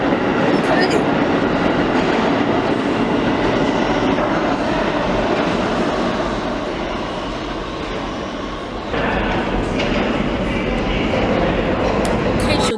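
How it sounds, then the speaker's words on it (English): An R subway train in New York pulls into 86th Street station, stops and departs, producing a continuous loud, close rumble and screech of wheels and motors with shifting intensity throughout. "that was the R train, and it was approaching 96th Street. I mean, approaching 86th Street and stopping and departing 86th Street"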